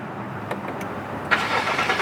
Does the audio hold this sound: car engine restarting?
yes